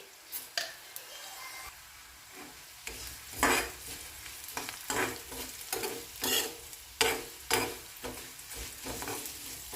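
Cumin and coriander frying in a pan for a Kadaknath chicken curry, a soft steady sizzle broken by repeated scraping strokes of a spoon stirring the spices, close and fairly loud.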